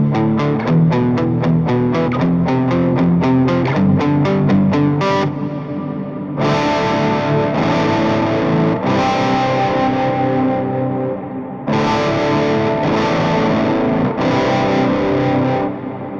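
Distorted electric guitar riff through a Toneforge Misha Mansoor amp plugin, loud and close, with rapid chugging palm-muted notes that give way to sustained ringing chords with reverb-like tails, played alone.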